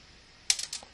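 Several computer keyboard keys pressed in a short burst of clicky taps while typing Japanese input on Windows, loud and close, after a quiet moment.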